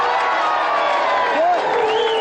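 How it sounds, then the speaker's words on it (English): A studio audience at a 1993–94 Gamesmaster team championship claps and cheers for the runner-up team, the Humberside Hawks, as loud, steady applause with whoops and whistles rising through it. "Please give a big round of applause for the Humberside Hawks as well."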